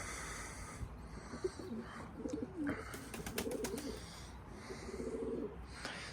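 Soft, low pigeon coos repeat through the clip over faint background noise, with a few brief higher sounds in between.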